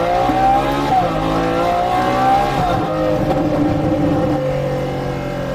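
Ferrari 812 Superfast supercar engine heard from inside during a ride, a loud, smooth rising howl that climbs through quick paddle shifts, each change causing a brief dip before the revs build again.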